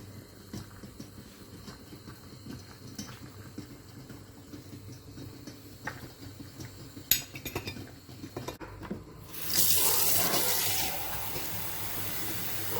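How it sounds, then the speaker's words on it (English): A spoon clinks against a pot as an egg is lifted from boiling water, light scraping and clatter over a low bubbling hiss, followed by a louder burst of rushing, splashing water near the end. "I'm using the spoon to remove the egg from the boiling water."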